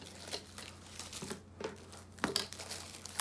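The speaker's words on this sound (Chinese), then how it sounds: "撕开。" Plastic shrink-wrap film being torn open from a boxed retro Famicom reference book, giving a few close crinkling, rustling bursts with short pauses between them.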